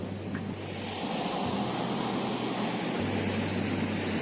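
Sea water washing and splashing at the shoreline, a continuous close rush of surf with wind buffeting the microphone and a low steady rumble underneath, no voices.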